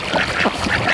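Ducks quack in a short, close burst of a few overlapping calls.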